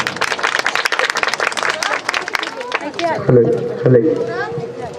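A church congregation at a ministry program claps for an uncle, brisk crowd applause that starts dense and thins out, giving way to voices and chatter in the room toward the end.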